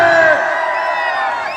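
Crowd at a Bhojpuri stage show roars and whoops in a short loud burst, massed shouting that fades slightly as it holds.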